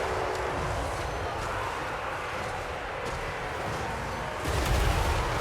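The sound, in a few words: artillery firing in Total War: Warhammer 3 video game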